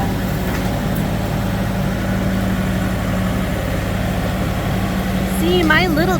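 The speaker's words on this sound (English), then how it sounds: "See, my little tractor's really coming in handy, isn't it, Joe?" A small tractor engine runs at a steady, close, low throbbing idle throughout, with a brief higher-pitched sound rising near the end.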